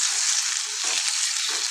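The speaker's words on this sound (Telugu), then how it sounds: "ఆయిల్లో ఫ్రై అవ్వాలి." Tomatoes frying in hot oil with onions for a tomato curry, a continuous bright sizzle up close, broken by a couple of soft stirring scrapes.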